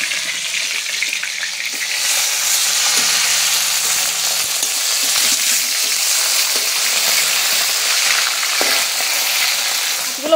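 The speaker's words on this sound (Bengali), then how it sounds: "এক পিঠ ভাজা হয়ে গেছে, আমি উল্টে দেবো।" Tilapia fish fries in hot oil, giving a loud, steady, dense crackling sizzle close up with only faint clinks, no talking.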